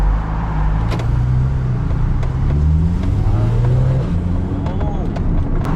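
A Porsche 911 Targa 4 GTS pulls away and accelerates, its engine a steady close drone with rising tones, heard from inside the cabin alongside talking.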